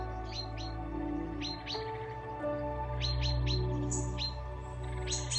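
A European robin sings a rapid series of high, thin chirps and trilling phrases, near and clear, over a steady low hum in the background.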